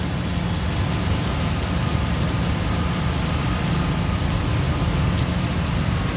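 Steady rain falling on and around a parked car, a dense continuous patter with a low rumble underneath, loud and unbroken throughout with no voices.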